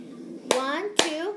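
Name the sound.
hand clap on a table in a cup game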